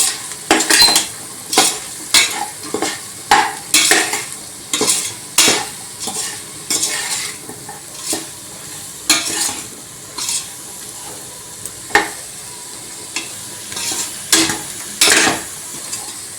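Pulao masala being stirred in a frying pan with a metal spoon: repeated scraping strokes and clinks against the pan, roughly one every second, over a soft sizzle of frying underneath.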